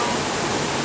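Dry Falls waterfall in Highlands, North Carolina gives a brief, loud, continuous roar of rushing water.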